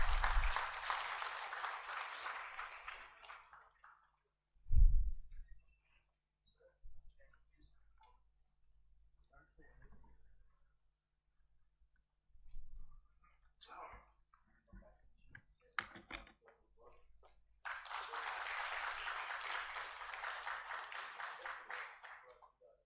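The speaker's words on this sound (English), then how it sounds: "please give a big round of applause." Two separate bursts of audience applause at a national convention of insolvency professionals, one at the start and one near the end, with a long quiet gap of scattered small clicks and knocks between them.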